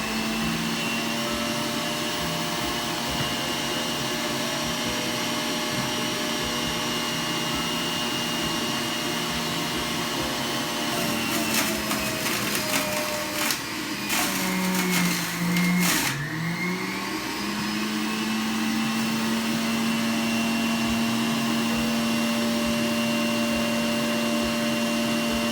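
Breville Juice Fountain Plus centrifugal juicer running on high speed as a bunch of carrots is fed through, a steady loud motor whine with a grinding, dipping pitch midway as the carrots hit the spinning blade.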